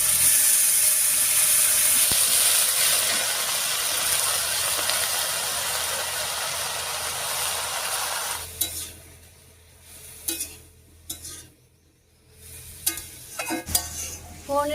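Taro stalks hit hot oil with garlic and green chili and fry with a loud, steady sizzle. Later the hiss drops off and uneven clatters and stirring scrapes break in, close and with no talk.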